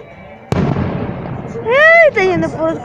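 A single sharp fireworks rocket bang at a castle-burning festival in San Miguel Ameyalco, loud and close, followed by someone speaking excitedly.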